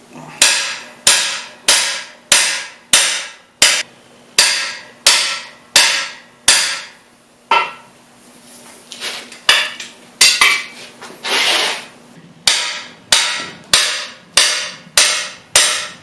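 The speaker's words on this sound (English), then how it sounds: "lining up the holes in the bearing shells with the holes in the block and tapping them in until everything lines up" Cam bearings are hammered into an engine block with sharp metallic strikes in a steady rhythm, loud and close, with a short pause midway broken by a few scattered taps and scraping.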